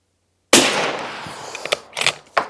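A single loud, close shot from a Mauser M18 Pure .308 rifle on an outdoor range in Scotland cracks sharply out of silence and rings off in a long decay, followed by a few light mechanical clicks.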